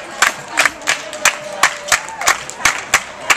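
Audience clapping in rhythmic bursts, about three per second, steady and fairly close, with crowd noise under the claps.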